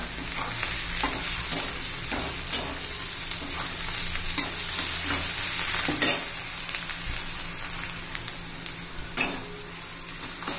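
Chopped onion and potato sizzle steadily in oil in a pan for tomato poha, with a bright continuous hiss and repeated sharp scrapes and clicks of a spatula stirring throughout, no voices.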